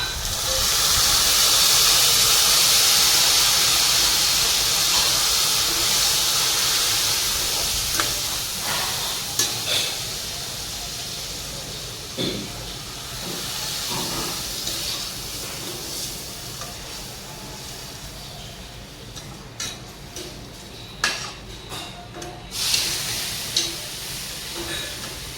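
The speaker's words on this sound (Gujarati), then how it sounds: "હવે આની અંદર હું નાખી દઈશ દૂધ" Milk poured into a hot pan of roasted vermicelli gives a loud, broad hiss at first that eases into a steady simmering sizzle, with scattered clinks and scrapes of stirring toward the end.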